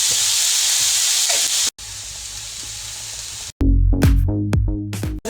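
Arai keerai spinach sautés in a pan with cumin and asafoetida, giving off a steady sizzling hiss across several cut segments, followed by a few clinking stirring sounds.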